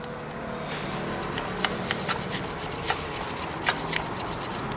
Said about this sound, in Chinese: 然后一样就是把我们的平面打磨一下哦。